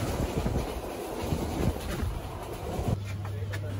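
A passenger train runs on rails on its approach to Chittagong station at dawn, heard from inside the carriage as a steady rumbling roar with faint wheel clatter and a low sustained hum joining near the end.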